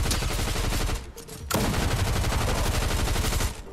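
Rapid gunfire in the video game Fortnite, dense bursts of shots crackling close and loud almost without pause, with a brief dip before the firing resumes.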